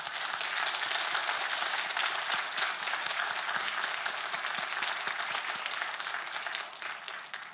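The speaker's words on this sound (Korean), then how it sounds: "그 하나님께 영광의 박수를 우리 한번 올려드리십시다" A church congregation at a Sunday service breaks into sustained, even applause. Many hands clap together in a dense, steady wash that fades slightly toward the end.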